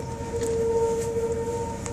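A civil defense tornado siren wails as a steady, sustained tone in the distance, holding level across the clip beneath light background noise, during an April 2015 tornado in Rochelle, Illinois.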